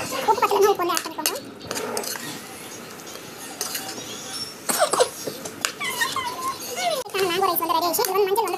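Mango rice stirred in a pot with a utensil, giving scraping clinks and knocks against the metal, with speech and a voice heard throughout the mixing.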